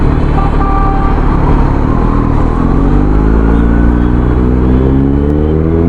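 A Honda car drives past on a road, its loud engine hum shifting in pitch as it goes by, with no voices.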